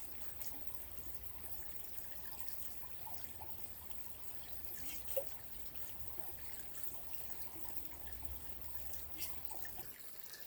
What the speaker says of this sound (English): we're filling up the water bottle.